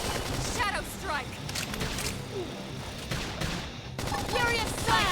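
Gunfire in the Xenoblade Chronicles X video game crackles in dense, continuous bursts like a fusillade, playing under speech and busy game effects throughout.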